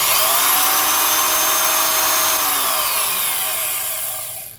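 Milwaukee 1001 half-inch D-handle drill motor running: a loud, steady high-pitched electric whine with a brush hiss, held for several seconds before winding down and fading at the end.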